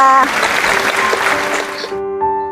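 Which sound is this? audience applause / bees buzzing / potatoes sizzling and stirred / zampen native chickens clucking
audience applause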